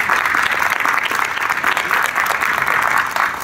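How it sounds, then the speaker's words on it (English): Sustained audience applause fills an arena during a community forum, dense and loud clapping with a few crowd sounds, steady from start to finish. "Can you give him a round of applause?"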